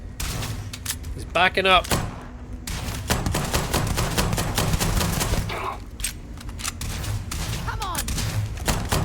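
Gunfire at a heavily armored enemy in Starfield: repeated loud, close shots in irregular bursts over a busy combat din, with synthetic whooshing effects and someone speaking briefly.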